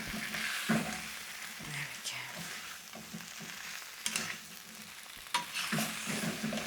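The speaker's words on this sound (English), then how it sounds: "you just want to fold the cauliflower into the potatoes and the masala" Cauliflower being folded and stirred into potatoes and masala in a pan for aloo gobi, with soft scraping and a steady low sizzle, occasional louder knocks of the spoon against the pan.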